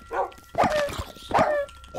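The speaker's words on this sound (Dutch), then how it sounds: "Ik heb 2 gekke honden achter me aan." Dogs in the video game Minecraft bark and yelp in several loud, close bursts while chasing the player, the barks stacked quickly one after another with no voices over them.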